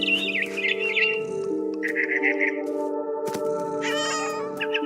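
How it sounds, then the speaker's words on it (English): Cat meowing in the game What Remains of Edith Finch, with a barn swallow chirping and squawking nearby over a steady sustained music drone, the bird calls rising in quick trills while the cat cries out. "I was a cat."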